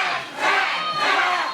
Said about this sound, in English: Are you hearing this crowd?